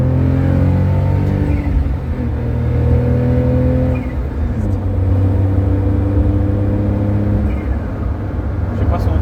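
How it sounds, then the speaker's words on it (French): A turbocharged coupé accelerates with a steady engine drone rising and falling through the gears, heard from inside the car with a faint turbo whistle beneath and a person talking over it. "On a un petit bruit de turbo, un peu comme les Supra, mais en moins fort."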